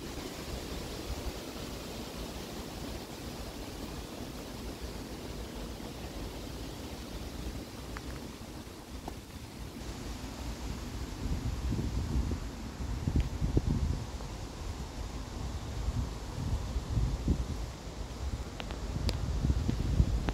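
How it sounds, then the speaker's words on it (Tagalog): Strong wind blows steadily outdoors during a solo hunting outing, a broad rushing roar that swells and gusts louder in the second half, with no voices. "Malakas po yung hangin."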